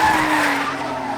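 Drift car tyres squealing and skidding at a dirt-edged drift competition track, a loud continuous screech with engine roar close by, no talk.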